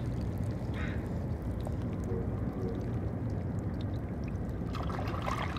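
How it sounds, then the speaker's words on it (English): Faint, irregular tiny clicks of barnacles meeting trickling water at Kits Beach over a constant low rumble of distant city noise. "The tiny clicking sounds that you hear are the meeting of the water and the barnacles"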